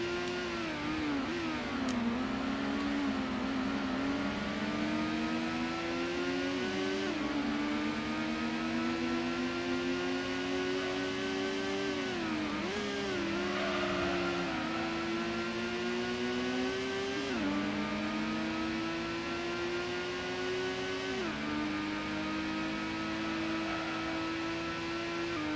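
A Mazda RX-7 and a Toyota Supra rev through the gears in the Gran Turismo racing game, their engine tones climbing and dropping again and again in a continuous whining drone.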